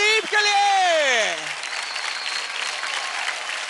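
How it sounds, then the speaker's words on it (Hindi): A studio audience at a televised dance competition breaks into steady applause that fills the space after a host's drawn-out shout at the start. "जोरदार तालियां हो जाए प्रदीप के लिए"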